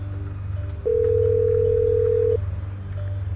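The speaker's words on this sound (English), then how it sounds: "I dial the number and wait as the ringtone plays" A single steady electronic tone of about one and a half seconds plays over a low hum, like a phone line ringing on the other end.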